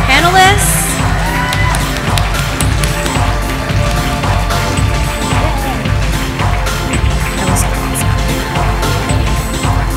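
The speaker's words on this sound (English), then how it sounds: "Let's get a big round of applause for all of our models, all the fabulous fashions, all the panelists" A fashion-event audience cheers and applauds the models and panelists, a dense wash of shouts, whoops and clapping that stays loud throughout, with music and voices mixed in.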